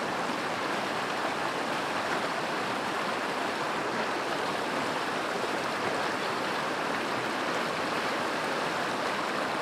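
Mountain creek water flows steadily and close by, a constant broad rushing babble filling the whole stretch with no voices.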